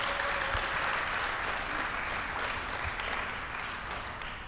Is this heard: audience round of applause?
yes